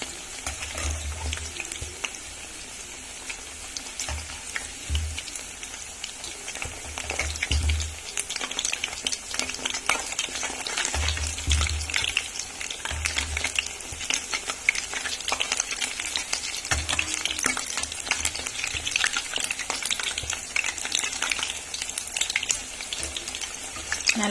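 Raw mango pakoda frying in hot oil while being flipped: a constant loud sizzle runs throughout, broken by soft low thumps and stirring scrapes as the pieces are turned.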